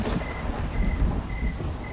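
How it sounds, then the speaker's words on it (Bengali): Heavy rain pounding a tin roof on a rural night, a dense, steady roar of drumming drops with low rumbling underneath, close and constant throughout. "ঝমঝম করে বৃষ্টি পড়ছে"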